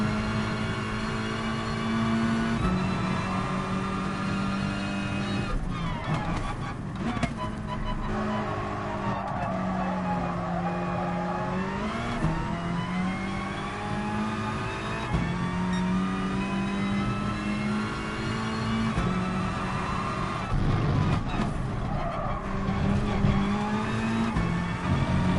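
Race cars in a racing video game, including a Scirocco and a Renault, drone continuously with engine pitch rising and falling through gear changes, punctuated by tire squeals and skids across the race.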